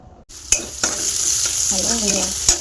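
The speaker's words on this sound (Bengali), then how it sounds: "পেঁয়াজটা ভাজছি, যেটা পাস্তা করবো।" Chopped onion frying in a pan for pasta, a steady close sizzle with a few sharp scrapes of a spatula stirring through it, and no talking.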